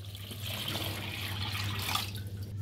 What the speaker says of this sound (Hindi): 4 ग्लास 1 जग वाटर ऐड करेंगे।